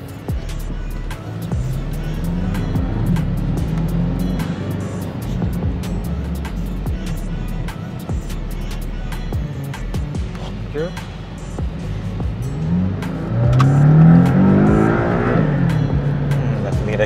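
A 2018 Porsche 718 Cayman with the 2.0 engine drones steadily from inside the cabin on a main road, then climbs in pitch with a strong acceleration surge near the end, while people talk over it.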